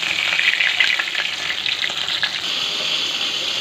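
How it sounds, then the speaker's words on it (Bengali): Pomfret fish frying in hot oil gives a steady, close, loud sizzle and crackle throughout, with no voices. "বাকি মাছগুলো এবার ভেজে নেব।"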